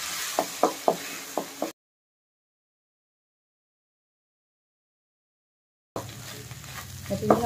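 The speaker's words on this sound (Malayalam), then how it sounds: "നമ്മൾ ഇനി നമ്മുടെ അടിച്ചു വെച്ചിട്ടുള്ള മുട്ടയില്ലേ, അത് ഇതിലേക്ക് ചേർത്ത് കൊടുക്കുകയാണ്." Beaten egg hitting hot coconut oil in a pan for a Kerala-style drumstick leaf egg stir-fry, with a few sharp spatula knocks over sizzling, then a silent gap before sizzling and stirring resume close by.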